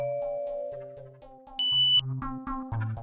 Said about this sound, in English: Existing doorbell sounds and receiver will beep.